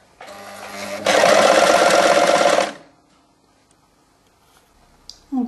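A sewing machine stitches the two ends of bias binding together on a bound waistcoat. It starts with a short, slower run, then hums in a loud, fast, continuous burst of close stitching before stopping.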